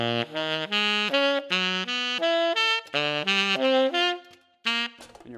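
A saxophone plays root movements in groups of four, a run of short, distinct notes that step up and down in a steady rhythm. Each tone comes through clearly and alone, ending with a brief pause and a final note.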